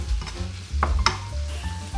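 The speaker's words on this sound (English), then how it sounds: "Giving it a bit of a stir every now and again." Mushrooms and spring onions cooking down in a pan, stirred now and then: a low steady sizzle with a few scraping utensil clicks and brief clatters, close and moderately loud, no voices.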